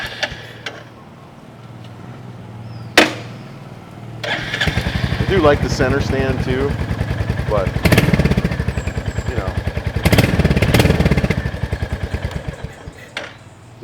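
A Royal Enfield Hunter 350 motorcycle starts with a sharp crank at about three seconds, then settles into a steady, thumping single-cylinder idle close by, while someone talks over it throughout.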